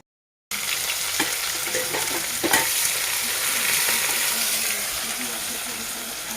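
Oil heats in a hot wok (kadai) for Kashmiri chicken masala, giving a continuous close sizzle after a brief silence, with a few light clinks of stirring.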